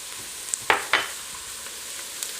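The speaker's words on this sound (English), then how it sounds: "Now this is ready to add 4 cloves of minced garlic." Minced garlic sizzles over medium heat in a pot for smoked chicken corn soup, a steady close hiss marked by two sharp bursts as it is stirred or dropped in, with no voices.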